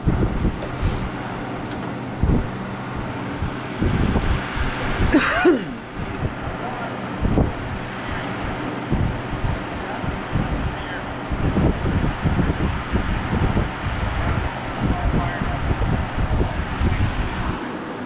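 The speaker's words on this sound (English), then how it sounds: "literally we just fired it up tonight, so we're gonna let the motor break in" A Nissan S15 with a swapped LS V8 on a Terminator X ECU idles right after its first start, a steady low rumble with uneven pulses, close up, with wind buffeting the microphone throughout.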